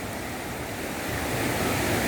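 Ocean surf rolls in at Juhu Beach as a steady, loud, broadband wash mixed with wind buffeting the microphone, building slightly toward the end with no voices present.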